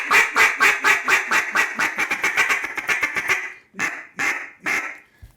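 An RNT DC Mondo duck call with a shorter barrel is blown in a fast string of loud, close quacks that speeds into a rapid chatter, then ends with three spaced, drawn-out quacks.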